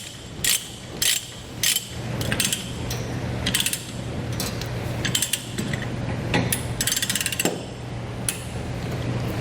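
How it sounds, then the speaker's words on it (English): Titan chain ratcheting load binder for 5/16 chain being cranked, a steady run of metallic ratchet-and-pawl clicks with sharp louder bursts early on, close and alone over a low mechanical hum. "But then we just start ratcheting."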